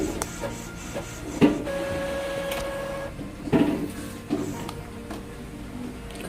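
An Epson printer runs a test page at close range, its whirring feed and print-head passes broken by clunks and shuttling bursts, with a steady mechanical drone throughout.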